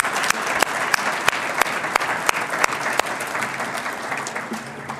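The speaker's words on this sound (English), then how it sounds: "Let's have one more collective round of applause for all the inductees tonight." Audience applause for the inductees at the 2013 Hendrix College Hall of Honor ceremony, a dense steady round of clapping from a large crowd with a few sharp, regular claps standing out near the front before it gradually thins and fades.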